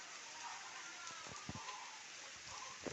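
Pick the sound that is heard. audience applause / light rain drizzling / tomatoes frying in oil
light rain drizzling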